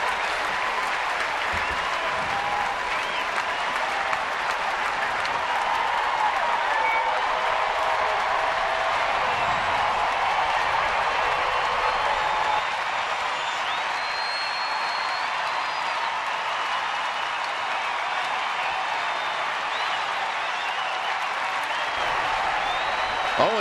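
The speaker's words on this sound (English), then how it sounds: "To Eaton as the crowd gets into it." A large crowd at a San Francisco Giants baseball game, Arizona at San Francisco, cheers and claps in a steady, dense roar for over twenty seconds, with a play-by-play announcer talking over it.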